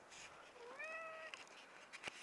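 A cat at a mountain campsite in New Mexico gives one clear drawn-out meow, close by, followed by a few faint rustles and taps.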